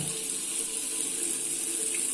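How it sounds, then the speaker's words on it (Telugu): Cold water runs from a kitchen tap in a steady, hissing stream, held close and constant the whole time with no voices. "ఇది ఇది తిప్పి ఇలా ఈ సైడ్ తిప్పితే ఫుల్ చల్ల నీళ్ళు వస్తున్నాయి"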